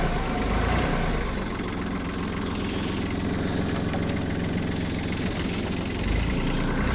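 A tractor engine idles steadily at close range, a continuous low rumble with a slight knock, before ploughing a small garden plot in late May.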